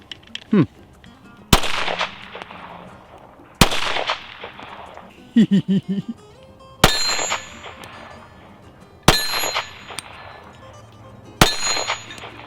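A 9mm round is fired from a test barrel in sharp, loud single reports spaced a couple of seconds apart, each with a ringing metallic clang decaying afterward, and a person speaks briefly between shots.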